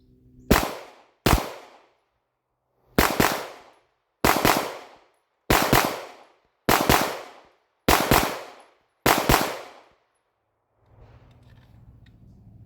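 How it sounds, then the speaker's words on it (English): A Canik Mete Signature Series pistol fires eight sharp, close, loud shots in four quick double-tap pairs with brief pauses between pairs, each crack ringing out and decaying, followed by faint background noise at the end. "I'm gonna do a couple double taps, control pairs, and see how quickly I can kind of get back on the gun between shots"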